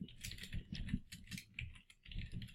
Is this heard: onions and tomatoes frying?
no